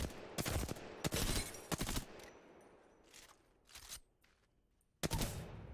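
Bursts of light-ammo gunfire in Apex Legends, several short controlled volleys of rapid shots with brief pauses between, loud and close, with no talking.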